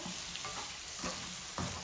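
Chicken frying in a pan, a constant close sizzle with soft stirring scrapes throughout the short stretch.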